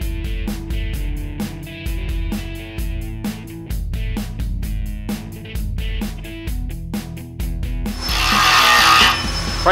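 A hand ratchet snugs bolts during assembly of a Crary Bear Cat CH800H skid steer chipper, giving quick, sharp clicking strokes in uneven bursts close by, ending in a louder scraping, rustling noise.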